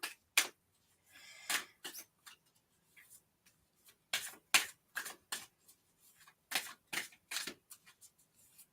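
Bursts of crisp, papery riffling come in irregular flurries, with short pauses between quick card shuffles and snaps; no talking.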